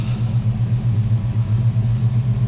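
A 1968 Dodge Charger with a fresh RV 440 V8 idles steadily up close, its deep lumpy rumble loud and continuous with no talking over it.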